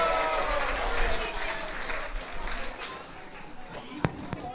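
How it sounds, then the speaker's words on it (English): At a school Parents Day, an audience claps and cheers for children coming up on stage, the applause mixed with crowd chatter and fading into a few sharp knocks and bumps. "Give them a big round of applause."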